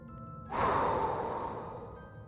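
A single heavy, breathy exhale rises suddenly and then slowly fades, close and alone, from someone sitting in a car inside a pitch-dark highway tunnel lit only by headlights.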